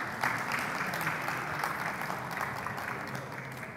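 Steady, moderately distant applause from a conference audience at the Istanbul Finance Summit welcoming a keynote speaker to the stage, an even wash of many hands clapping without voices.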